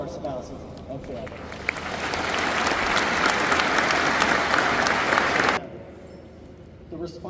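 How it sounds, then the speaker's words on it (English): An audience at a naval air base change-of-command ceremony applauds spouses and families, clapping swelling into a loud, sustained roar then cutting off abruptly, with voices before and after. "please join me in a round of applause for all of our spouses and families"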